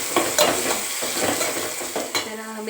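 A spice tempering for sprouted mung bean curry sizzles and spits in hot oil, close and busy, with a spoon clinking and scraping against the pan in quick irregular strokes.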